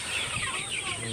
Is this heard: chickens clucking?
yes